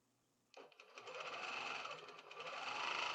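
A Handiquilter longarm quilting machine starts up after a moment of quiet and stitches a tension test on a quilt. It settles into a steady, fast, buzzing run of stitches that continues to the end and grows slightly louder.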